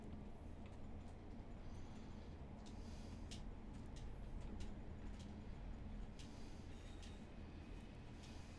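A train rumbling into Cardiff Queen Street station in a railway video game, a steady low rolling drone with faint rhythmic clicks and squeals above it, continuous and fairly quiet, with no talk.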